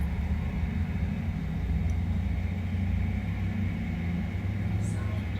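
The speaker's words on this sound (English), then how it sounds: "Ooh, the road noise here." Constant low rumble of nearby road traffic, steady and unbroken, with a faint hiss on top.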